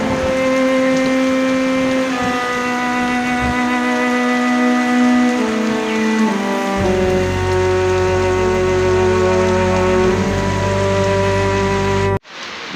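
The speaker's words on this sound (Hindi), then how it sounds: "इस वक्त बारिश तेज़ हो रही है" Heavy rain pours steadily during a storm in Pakistan, a dense continuous wash that holds loud throughout, with a deeper rumble joining partway and cutting off abruptly at the end.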